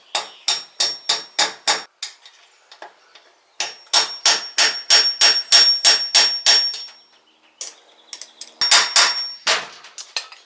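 A hammer taps a bearing into an aluminum motorcycle frame on a Honda CBR/VFR800 hybrid project. The strikes are sharp metallic blows in quick rhythmic runs with short pauses between them, close and clear.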